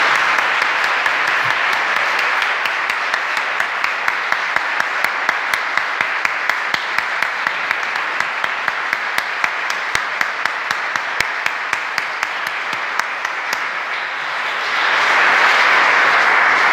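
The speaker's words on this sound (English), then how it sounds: "Let's give them one more big round of applause." Church congregation at Sunday Mass applauding standing veterans, a long steady roar of clapping with sharp individual claps standing out, swelling louder near the end.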